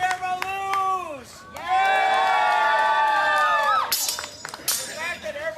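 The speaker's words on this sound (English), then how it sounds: "The fact that Erma losing got more applause" Live audience at a Faerie Fest stage show cheers, whoops and shouts in loud swelling bursts with some clapping underneath, dipping briefly before rising again.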